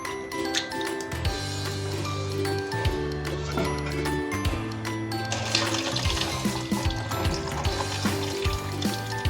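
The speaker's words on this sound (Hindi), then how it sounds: "इस तरह से हमें ये सारी दाल धो लेनी है" Urad dal is washed by hand in water, with continuous splashing and sloshing under a steady backdrop of background music, moderately quiet and close.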